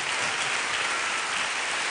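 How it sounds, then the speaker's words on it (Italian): Sustained audience applause in an Italian television variety show studio, a dense, steady wash of clapping from a large crowd, loud and even throughout with no voices on top. "Continuate l'applauso perché se lo merita"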